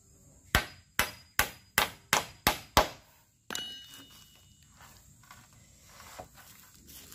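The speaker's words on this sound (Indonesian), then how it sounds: "kami melakukan pemakuan kecil dulu untuk mengunci" Seven sharp hammer blows ring out in a quick, even rhythm as nails are driven into a wooden roof truss joint, followed by quieter scattered knocks and handling noise.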